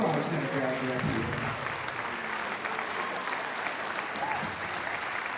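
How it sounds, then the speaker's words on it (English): Concert hall audience applause for a community band, a loud, dense wash of clapping across the whole stretch, a voice speaking over it at the start. "One more round of applause, please,"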